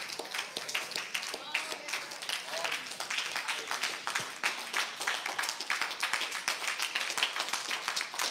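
A church congregation claps hands together at a service, dense continuous clapping with voices mixed in throughout.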